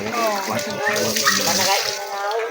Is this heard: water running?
yes